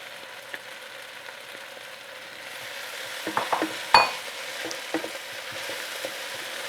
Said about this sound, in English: now it's time to add the garlic and also then the tomato paste